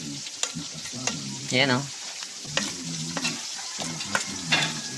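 Pork sisig with onion, chili and calamansi is stirred in a hot pan. Repeated scraping strokes run over a steady sizzle, and someone says a few brief words partway through.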